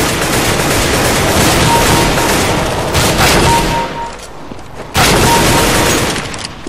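Constant rapid gunfire from a Counter-Strike: Global Offensive deathmatch fills the mix, dense bursts of overlapping shots with a brief lull near the end before the firing resumes loudly.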